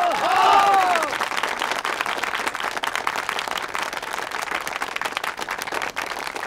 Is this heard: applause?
yes